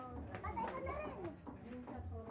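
Children playing in the background with chattering kid voices and shouts, fairly faint and distant, alongside a nearby adult talking.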